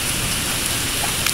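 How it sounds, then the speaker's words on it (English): Heavy tropical storm rain pours down steadily and loudly, a dense continuous hiss of drops hammering surfaces close by with no talking. "This is it. This is a storm."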